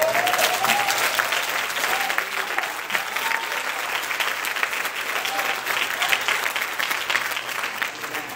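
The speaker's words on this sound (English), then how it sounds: "Now we can give God a better hand clap than that." Steady applause from a church congregation at a youth day service, dense hand clapping sustained at an even level throughout, with scattered voices faintly mixed into the crowd.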